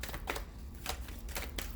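Tarot cards are shuffled by hand in quiet, soft papery bursts, about four short riffles spaced unevenly across the moment with no talking.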